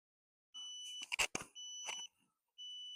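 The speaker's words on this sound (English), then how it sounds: "So that's the verbal warning, followed by the vibration." Pet Hey GPS boundary dog collar gives a warning tone: steady electronic beeps in short bursts separated by gaps, close and clear, with brief clicks in between.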